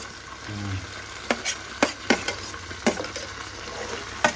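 Mixed vegetables for a vegetable pulao sizzle in a hot pan while a spoon stirs them, giving irregular sharp scraping strokes over a steady frying hiss, close and fairly loud.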